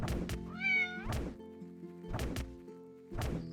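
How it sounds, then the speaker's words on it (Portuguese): Cat meowing in the creature-capture video game Layer Land, one rising and falling meow over repeated heavy thunks and whacks, with a steady low game hum beneath. "Vem aqui, gatinho."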